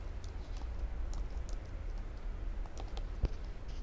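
Fingers typing on a computer keyboard, faint scattered key taps and clicks over a low steady hum, with no voice.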